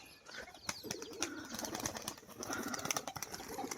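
Flying display pigeons coo softly nearby while quick wing flaps and fluttering bursts break in now and then, all fairly faint.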